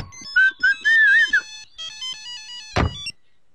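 A mobile phone ringtone chimes in a repeating electronic melody, loud and close, broken by a short pause and then a dull knock near the end.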